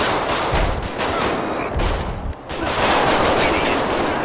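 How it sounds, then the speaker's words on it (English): Repeated gunfire bursts in the Grand Theft Auto 5 police game LSPDFR during an armed pursuit in Davis, loud, dense shots in quick clusters over a busy background. "Shot fired."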